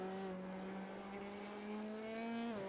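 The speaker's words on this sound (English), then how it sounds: "Let me just listen to the throttle again." Race car engine held at steady throttle through part of a lap, a loud sustained harmonic drone with rising pitch near the end, close and alone.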